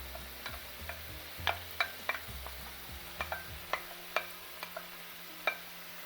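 Boiled potatoes and peas being stirred in a pan on low gas for aloo samosa filling, soft scraping and light spoon taps at an irregular pace over a faint sizzle, close and quiet, no talking.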